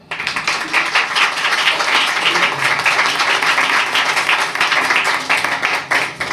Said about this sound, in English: Please welcome Lisa with a round of applause